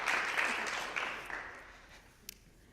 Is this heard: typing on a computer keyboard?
no